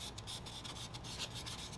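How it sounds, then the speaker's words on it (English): Soft, steady rubbing and rasping of an abrasive sponge sanding the edge of a foam board combat fuselage kit, close and quiet, with no talk. "then I'll just start sanding the edge of this"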